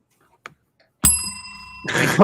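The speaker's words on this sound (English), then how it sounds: "I need a bell on that one, Billy." A bright bicycle-style bell rings once loud and close, its metallic tone sustaining and slowly decaying, followed by a brief noisy burst; a faint click precedes it.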